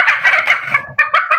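Short burst of chickens calling up close, hens and a rooster, a rapid warbling cackle from a bird or two, loud and without any talk.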